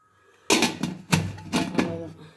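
A lid is set on a cooking pot of boiling corn, giving a series of sharp metallic clatters and knocks that ring briefly and settle over about two seconds.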